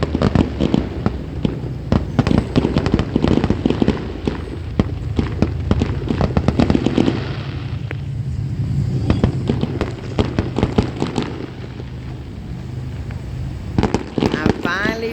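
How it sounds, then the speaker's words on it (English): A fireworks show booms and crackles in rapid, irregular bursts, with dense volleys of pops separated by a brief lull, while people nearby talk and react. "A fireworks show, yay!"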